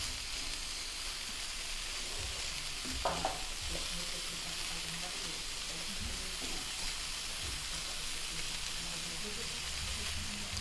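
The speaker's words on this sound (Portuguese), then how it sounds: "Não sei se vocês estão ouvindo aí o barulhinho da panela. Essa música da cozinha" Chopped bacon and calabresa sausage sautéing in a kitchen pan, with a steady sizzling hiss across the whole stretch and a few stirring knocks near the start.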